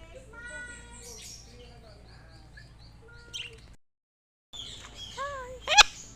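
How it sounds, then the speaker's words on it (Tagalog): Birds chirp and tweet in quick repeated calls at a zoo, moderately close, with a sharper burst near the end and faint background noise. "Hello, bird. Tweet, tweet, tweet, tweet."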